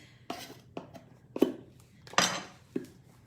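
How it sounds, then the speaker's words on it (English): Adjustable measuring spoons clink against one another while a teaspoon of salt is measured, with several short, light metallic clicks spaced irregularly and close by in a quiet kitchen. "Then you add a teaspoon of salt, and I'm just using the adjustable measuring spoons"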